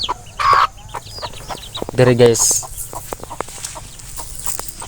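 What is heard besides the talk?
chickens clucking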